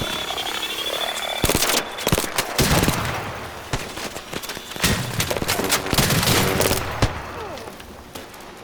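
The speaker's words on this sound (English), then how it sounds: "Okay, I might actually have to pull a gun out." Gunfire in the video game ARC Raiders, a swamp setting: several loud, sharp bursts and rapid shots cluster across the stretch, close and dominant over a steady ambient bed, with croaking frogs faintly in the background.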